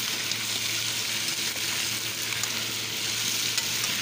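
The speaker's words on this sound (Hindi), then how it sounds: "ये लहसुन अदरक और नमक के साथ उनको फ्राई कर रही हूँ।" Chicken feet frying in hot oil with garlic ginger paste and salt, a steady dense sizzle with occasional stirring, constant and close with no talk over it.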